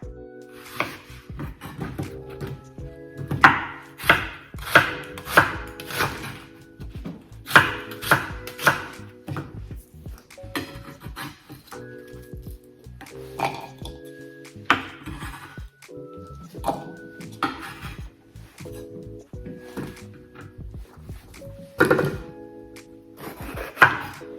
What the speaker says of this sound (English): When cutting your vegetables, you do want to look at different sizes